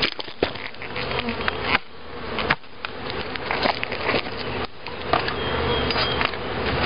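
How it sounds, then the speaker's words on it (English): Bees buzz inside a wooden hive box set out near the entrance, a dense, continuous drone close by, with a few sharp knocks and scrapes against the wood. "There are some bees inside."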